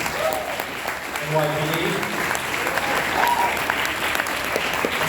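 Audience applause fills a large event hall, a steady sustained wash of clapping from a crowd, with a voice speaking over it.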